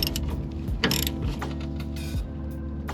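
Ratchet wrench turning the last bolt on a mini truck, quick clicking ratchet strokes over a steady low mechanical hum, close and moderately loud.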